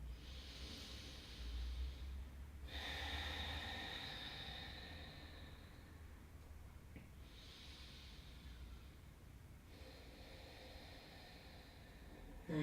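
Slow, steady yoga breathing during a hip and lower-back session: long, airy inhales and exhales that swell and fade in turn over a soft background hiss, with no talking.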